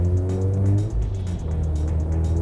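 A Mazda RX-8's rotary engine hums loud and close from inside the car, rising in pitch, dipping briefly at a gear change, then climbing again, with no voices.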